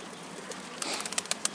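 A pigeon in an outdoor spot where ducks are being fed, with soft cooing and brief wing flutters in a short, faint passage.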